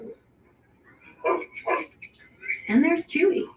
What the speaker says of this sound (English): his new dog has a thing for squirrels